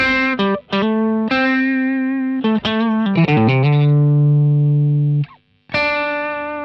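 Distorted electric guitar through a Boss Super Distortion Feedbacker effect plays sustained notes and short stabs with a singing, feedback-like tone, loud and close.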